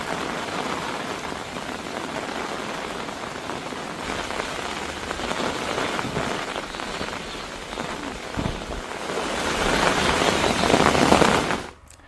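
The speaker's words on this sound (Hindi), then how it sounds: "गुजरात के वलसाड में भारी बारिश ने ऐसा तांडव मचा के रखा हुआ है" Heavy rain pours down in Valsad, Gujarat, a dense, steady hiss of drops beating on surfaces that swells louder toward the end before cutting off abruptly, with no voices.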